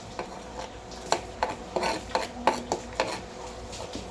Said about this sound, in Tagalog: Lagyan natin ng bawang